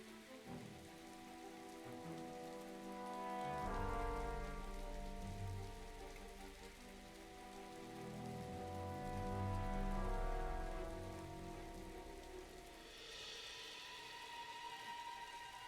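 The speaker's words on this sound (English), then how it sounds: "it's raining, you can hear it raining" Steady rain falls on a surface, swelling louder in two broad waves before easing, with dense patter throughout and no voices.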